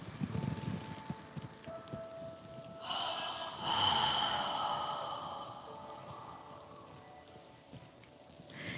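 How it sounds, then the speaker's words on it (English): A forceful open-mouthed exhale, like fogging a mirror, rushes out and fades gradually over several seconds during a yoga breathing exercise, with steady background hiss and faint room noise. "Imagine you're fogging a mirror with your breath on the exhale."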